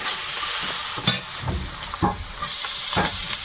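Greens fry in a pan with turmeric and salt, a steady close sizzle broken by several sharp stirring scrapes and spatters.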